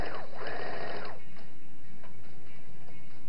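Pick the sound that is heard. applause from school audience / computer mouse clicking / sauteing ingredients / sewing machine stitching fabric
sewing machine stitching fabric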